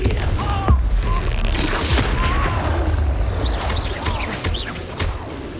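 A Confringo explosion spell is cast in Hogwarts Legacy on PS5, with heavy booming blasts and crackling impacts, a sharp hit near the start, then whooshing bursts, loud and close.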